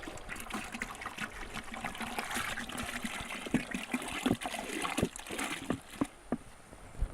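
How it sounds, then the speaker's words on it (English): Apple juice poured into a fermenter for apple wine makes a soft, continuous trickling and gurgling splash, fairly quiet, with a few sharper drips and sloshes toward the end. "Next step, add the remaining gallons of apple juice"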